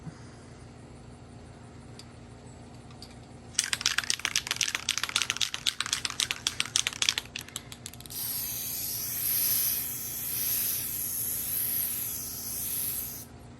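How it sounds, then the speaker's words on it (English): A quiet stretch, then a burst of rapid clicking and rattling, followed by a steady hissing spray from an aerosol can of Krylon matte finish sealant lasting several seconds, sprayed onto a toy figure's helmet. "we have a matte finish Krylon sealant. We're going to spray this on the RP1 Cody helmet"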